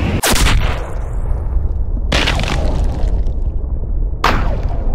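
Rifle shots in Cabela's Big Game Hunter, aimed at a pronghorn in open country: three loud, sharp booming reports about two seconds apart, each with a short rolling tail, with no voices.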